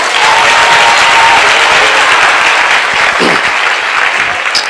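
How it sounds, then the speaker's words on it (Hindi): A congregation at a church conference in Punjab applauds loudly, a dense, sustained wash of many hands clapping at once with a few voices rising over it. "एक बार जोर से ताली बजाकर धन्यवाद"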